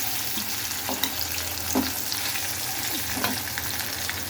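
Pieces of taro root (colocasia) fry in oil with chili powder in a pan, giving a continuous close sizzle. A few soft scrapes of stirring come through, with no talking.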